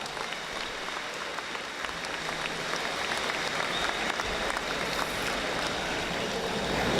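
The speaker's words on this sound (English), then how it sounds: "Let's give another round of applause for the Dubuque Senior High School Band, the drum line, and their director" Commencement audience applauding the Dubuque Senior High School band, drum line and director, a broad wash of distant clapping that swells slightly toward the end.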